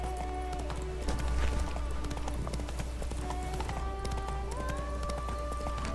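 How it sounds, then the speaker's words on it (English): Roach the horse gallops in The Witcher 3, a steady rhythmic clip-clop of hooves running continuously under in-game music and ambient sound, with a brief louder burst early on. "骑马啦"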